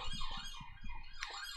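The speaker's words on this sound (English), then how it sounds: "Police car going by." A police car siren wails past, its rising and falling tone cycling quickly over a few seconds at moderate distance, heard alone and fairly faint.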